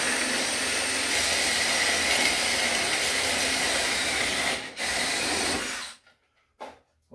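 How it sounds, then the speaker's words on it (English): Power tool cutting a 3/8 inch hole with a steady, loud, hissing grind for about six seconds, then cutting out to near silence with a brief burst near the end. "Now we'll see if we can cut a 3/8 inch hole."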